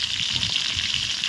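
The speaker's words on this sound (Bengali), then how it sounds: "এখন আমরা মুগ ডালটা ঢেলে দিলাম।" Mung dal poured into hot oil with bay leaf, panch phoron and chopped green chilli for Shivratri khichuri, giving a loud, continuous bright sizzle and hiss, close up.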